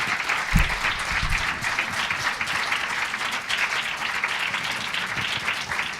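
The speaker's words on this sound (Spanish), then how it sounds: "el aplauso es muchísimo más que merecido" Applause from a lecture audience at the close of a neurology talk, a steady dense wash of many hands clapping throughout, fairly close and even in loudness, with no talk over it.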